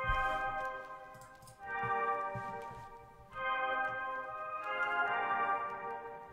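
Soft sustained pad chords from a Triton synth plugin using a tape-flute preset, with each chord held about a second and a half before shifting to the next, steady and moderately quiet with no talking.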